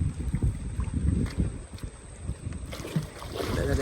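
Wind buffets a small boat out on the water in rain during a fishing trip for magur catfish, a steady low rumble of gusts and water noise close to the microphone, with no voices.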